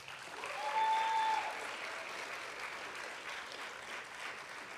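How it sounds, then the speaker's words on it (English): Audience applause after an Odissi classical dance item at a rang pravesh debut recital, a steady wash of many hands clapping that swells early and holds at a moderate, even level. "The technical precision of the item needs another round of applause."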